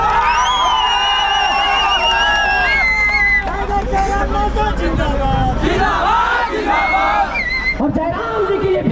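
Dense crowd hubbub at a political rally in Hazaribagh, Jharkhand: a loud, continuous babble of many voices with shouted calls and chanting rising through it, steady throughout.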